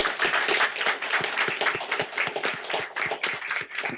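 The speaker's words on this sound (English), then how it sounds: "I just want to really give them a round of applause and thank them again." A crowd applauds at a parish council meeting, a steady round of mixed handclaps lasting several seconds at moderate volume in a room.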